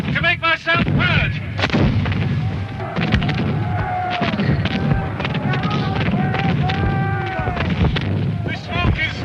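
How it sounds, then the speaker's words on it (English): Cannon fire at a Jacobite-era battle reenactment at Culloden: repeated loud booms from all around, some near and some distant, with someone shouting over the barrage. "That's Cumberland's cannon. Cannonades all around me."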